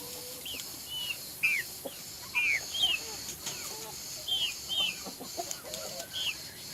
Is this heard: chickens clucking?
yes